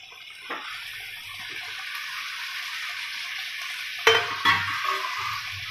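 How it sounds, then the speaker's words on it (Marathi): Cauliflower florets go into hot tomato masala with the oil separated, then get stirred, giving a soft steady sizzle and frying hiss with two sharper clattering scrapes near the end. "फ्लावर घालू सर्वात प्रथम."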